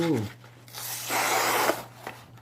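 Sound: knife being sharpened

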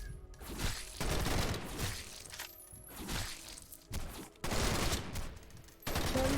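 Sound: gunfire in Roblox game Decaying Winter

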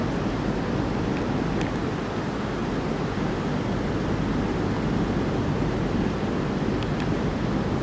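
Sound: river water flowing at Itaipu hydroelectric dam

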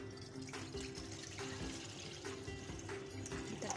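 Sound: water poured into a wok on the stove

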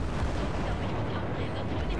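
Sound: explosion in the video game Battlefield 4

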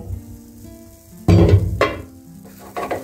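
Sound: pumpkin khagineh (omelette) frying in a covered pan

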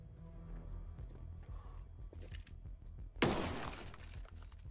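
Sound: glass shattering in Ghost Recon Breakpoint video game

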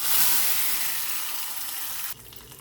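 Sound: hot tempering of chillies and shallots poured into curry, sizzling

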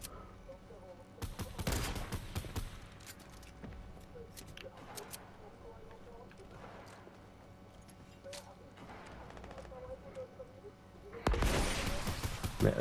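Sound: rockets being fired in a video game

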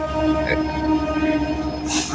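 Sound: express train arriving at station

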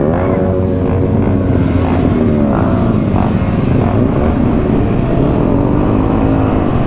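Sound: Yamaha YZF-R125 motorcycle engine while riding

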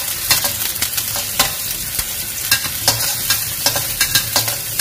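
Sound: garlic being sautéed in hot oil

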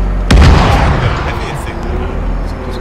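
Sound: artillery or mortar explosions in the video game Antistasi

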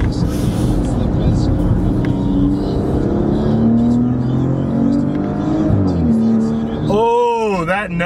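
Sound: Maserati Ghibli engine accelerating and shifting gears

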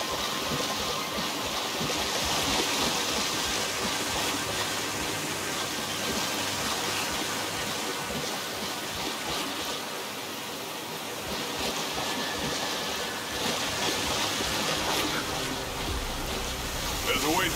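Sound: waterfall in the video game Gears of War 5

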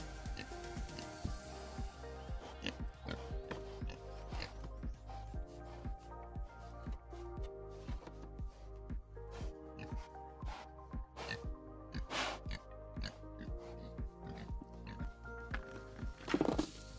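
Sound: pigs oinking and snorting while eating feed

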